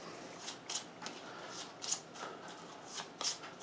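A deck of game cards for The Walking Dead: All Out War is handled and shuffled close by, giving soft papery riffles and snaps spread unevenly across a few seconds, with no talking.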